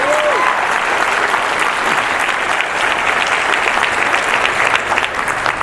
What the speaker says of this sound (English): Give another round of applause for Ink and Jeremy right now.